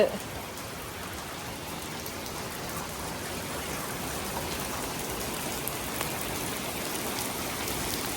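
Steady rain falls on a garden in Germany, making an even, continuous hiss of drops on surfaces throughout.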